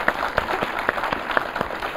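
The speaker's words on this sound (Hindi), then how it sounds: "आप एक बार अपने लिए ज़ोरदार ताली बजा लें" An audience claps in response to a request for loud applause at a Brahma Kumaris gathering, with the sound coming as scattered, uneven claps of moderate strength rather than a dense ovation.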